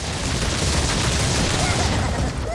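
Explosions boom in the video game Crash Bandicoot N. Sane Trilogy, a dense, loud burst of rumbling blasts lasting a couple of seconds.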